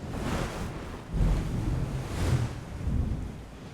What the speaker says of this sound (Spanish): Qué rico, delicioso escuchar el sonido de las olas.